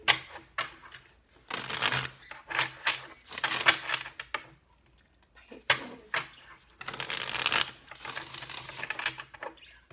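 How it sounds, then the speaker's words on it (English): Tarot cards are shuffled repeatedly up close, crisp riffling bursts alternating with softer sliding and tapping, with short pauses between rounds. "Last shuffle."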